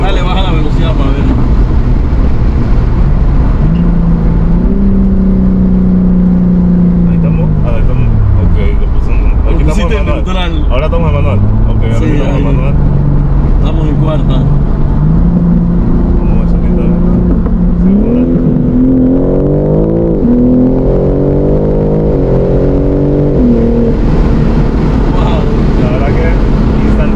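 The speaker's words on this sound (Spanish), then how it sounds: "Lo que escuchas es el motor." A BMW M3 Competition engine drones loudly and continuously at speed, its pitch rising and falling as it revs and shifts, with road and wind roar throughout.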